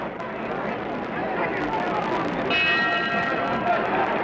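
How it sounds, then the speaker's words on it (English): The ring bell sounds to end a round in the 1967 Muhammad Ali vs Ernie Terrell heavyweight boxing match. A short, bright clang rings out midway over a steady roar of arena crowd noise. "That's the bell for round 4."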